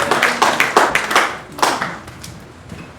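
A church congregation claps in a loose, uneven burst of hand claps that starts strong and thins out over about three seconds.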